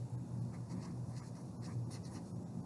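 A pencil writes a sentence by hand, giving soft, quick scratchy strokes in an irregular rhythm, close and quiet over a low room hum.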